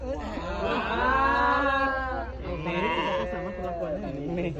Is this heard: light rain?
no